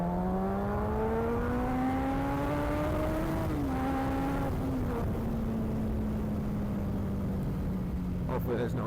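Honda CBR motorcycle fitted with a loud Kaufman shorty exhaust, the engine note climbing steadily through a rev, dipping briefly on a shift, then settling into a steady drone close by, with wind rush throughout.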